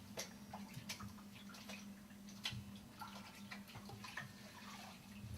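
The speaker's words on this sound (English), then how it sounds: "So now I take it and rinse it in water." An object rinsed in a small water bucket, faint sloshing with scattered drips and light clicks over a low steady hum, quiet and close, no talking.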